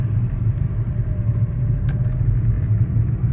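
A Mercedes-Benz C230 accelerates and runs up through its gears, a loud, close, continuous engine rumble with a steady low drone and small shifts in pitch.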